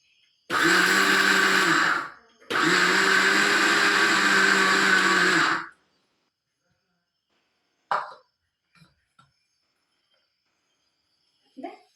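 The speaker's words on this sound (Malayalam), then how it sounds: "ഇങ്ങനെ വിട്ട് അരക്കണം." A mixer grinder runs on chammanthi powder in two loud, steady whirring bursts with a short pause between them, then silence broken by a few faint clicks and knocks.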